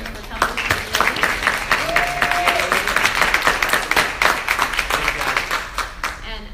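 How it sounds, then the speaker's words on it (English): Meeting attendees give a round of applause as a speaker departs. Sustained, fairly dense clapping carries on for several seconds with voices mixed in, then tapers off at the end. "I just wanted to give a round of applause for him"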